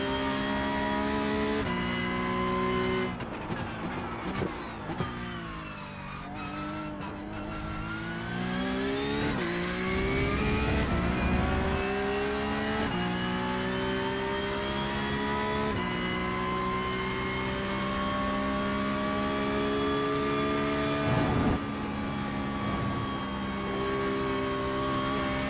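Porsche race car engine in iRacing, loud and continuous, revving with rising and falling pitch through gear changes and a few sharp downshifts, with no talk over it.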